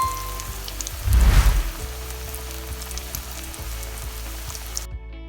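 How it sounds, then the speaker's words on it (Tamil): Paneer cutlets fry in oil over medium heat with a steady, close sizzling hiss that swells sharply near the start as oil bubbles up, then settles into an even crackle before cutting off abruptly. "கோல்டன் ப்ரௌன் ஆகிற வரைக்கும் இதை நல்லா ஃப்ரை பண்ணணும்."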